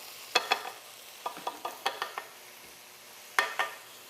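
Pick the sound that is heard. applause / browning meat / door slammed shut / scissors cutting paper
browning meat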